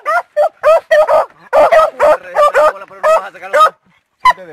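A dog barks in rapid, loud, close bursts, with yelping and honk-like calls mixed with excited human voices outdoors in rural Mexico during an armadillo hunt.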